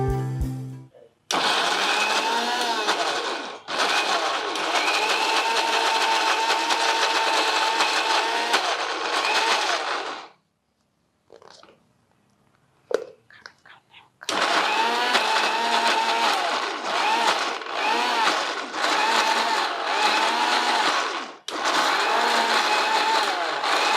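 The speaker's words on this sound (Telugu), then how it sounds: "కొంచెం చల్లారనిచ్చి గ్రైండ్ చేద్దాం." A mixer grinder blends cooled, cooked vegetables into soup, whirring loud and steady in long runs. It stops for a few seconds, gives short bursts, then starts again.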